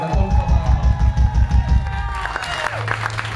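A crowd applauds and cheers loudly over a thumping low beat at a live rock show at La Respuesta in San Juan, Puerto Rico, with whoops rising near the end.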